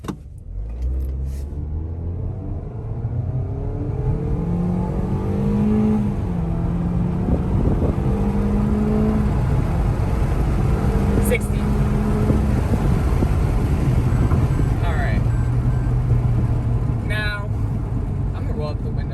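A 2020 Toyota Corolla's 2-liter four-cylinder engine with CVT drones loudly and climbs steadily in pitch as it accelerates hard at full throttle, with a rising whine throughout and a shift-like dip midway.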